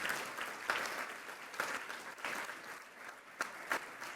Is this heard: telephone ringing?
no